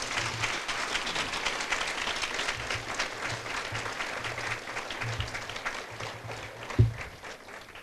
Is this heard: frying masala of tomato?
no